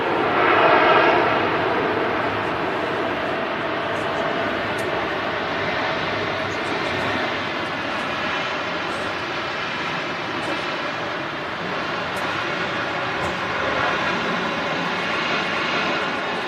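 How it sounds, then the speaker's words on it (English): A Saudia Boeing 787-9 Dreamliner jet arriving from Jeddah, heard as a broad, steady engine roar that stays loud and sustained from start to finish, with faint talk in the background. "Saudia 787-9 Dreamliner arrives in from Jeddah"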